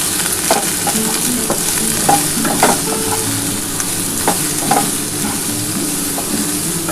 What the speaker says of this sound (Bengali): এটা ভালো করে ভেজে নিই